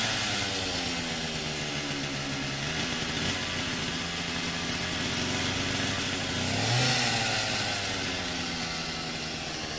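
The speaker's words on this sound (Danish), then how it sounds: "Det gør skovfoden med en motorsav." A forestry worker's chainsaw cuts through a storm-felled tree in a wood: a steady, droning small-engine whine runs the whole time, with a louder rev and pitch rise near the end.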